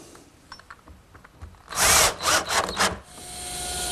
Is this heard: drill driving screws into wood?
yes